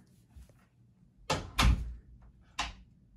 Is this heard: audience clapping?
no